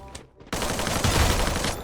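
Rapid automatic gunfire in the Free Fire battle royale game bursts in after a brief quiet moment and continues as a loud, dense, unbroken fusillade.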